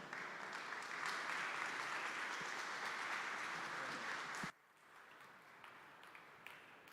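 Audience applause at a staking industry summit, a dense steady wash of many hands clapping for about four and a half seconds before cutting off abruptly to quiet room noise.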